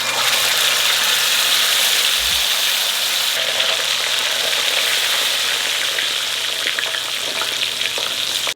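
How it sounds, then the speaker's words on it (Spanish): Chile drops into hot oil while carne adobada tacos are being made, giving a loud, continuous crackling sizzle close up that barely changes over the whole stretch, with no talk. "Ahora aquí en este aceite vamos a ponerle un poquito del chile que habíamos reservado."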